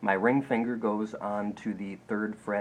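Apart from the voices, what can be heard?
No everyday noises stand out.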